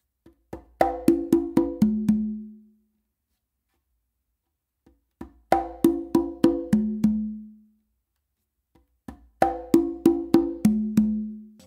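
Conga drums repeat a tumbao variation ending on an open tone: three phrases of soft lead-in taps, a rapid string of sharp strikes and a lower sustained ring, close and clean with pauses between.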